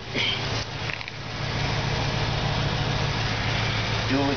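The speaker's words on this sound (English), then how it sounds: "Okay, so this is a true dual exhaust on this car." A 1996 Cadillac limousine's engine idles through true dual exhaust with a steady low rumble close by, while someone talks over it at the start.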